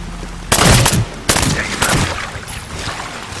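Gunfire in Medal of Honor Warfighter: loud, sharp bursts of automatic shots, with a heavy volley, a second burst and lighter scattered rounds trailing off, close and punchy.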